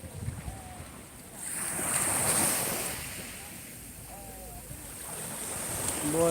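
Sea waves washing onto a beach on a warm evening, a soft surge that swells and recedes twice with wind buffeting the microphone, fairly close and without clear talk.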